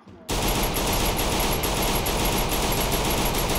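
Rapid, continuous automatic gunfire in a Free Fire clash squad match bursts in after a short quiet start and stays loud and dense to the end.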